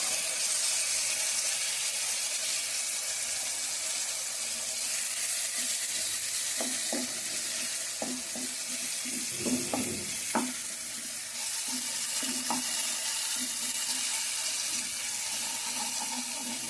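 Chicken fries in a pan with a steady, moderate sizzle and hiss throughout, while a cluster of utensil clinks and stirring scrapes comes in the middle.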